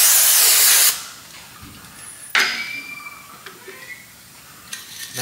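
A loud close spray of brake cleaner hisses for about a second onto the brake parts of a Mazda CX-9, followed by quieter clinks and light handling noises.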